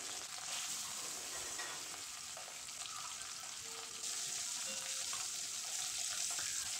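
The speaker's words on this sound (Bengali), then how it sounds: "উনুনে কড়াই বসিয়ে তাতে সরষের তেল গরম করে মাছগুলো একে একে দিয়ে দেব।" Pieces of katla fish frying in hot mustard oil in a wok over a stove, a continuous soft hiss and sizzle with faint crackles, fairly quiet and unbroken by talk.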